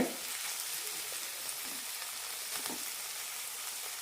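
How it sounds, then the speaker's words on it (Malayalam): Tomatoes sautéing in a pan for chickpea masala, a soft, steady frying hiss with a few faint stirring touches, quiet and continuous throughout. "തക്കാളി ഇട്ട ശേഷം ചെറുതായി ഒന്ന് വഴറ്റി കൊടുത്താൽ മതി"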